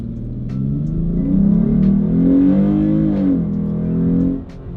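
Car launched at full throttle during a 0-60 acceleration test with a throttle controller fitted, a close engine note climbing steadily in pitch for about four seconds before easing off.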